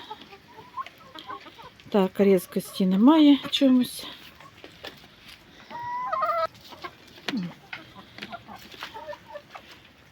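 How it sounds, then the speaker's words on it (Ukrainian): Chickens eating fish cluck in short bursts nearby while someone talks over them. "І оце кури тут їдять"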